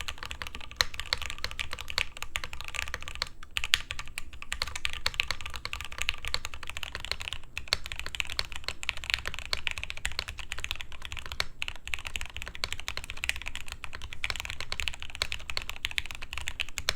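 Rapid, continuous typing on a mechanical keyboard fitted with the force break mod: dense, even clacks and taps, close and moderately loud, running steadily with no voices.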